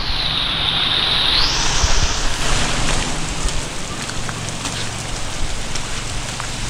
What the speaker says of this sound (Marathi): एकदम जोरात पाऊस पडतो